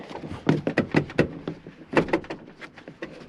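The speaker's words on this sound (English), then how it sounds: "I like the way the doors sound." A quick run of close, solid clunks and thuds as the doors of a heavy-duty diesel pickup truck are opened and shut several times in a row.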